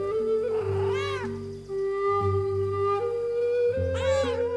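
Cat meowing in the video game Pentiment, several clear mews with rising and falling pitch over a steady game music bed, close and moderately loud.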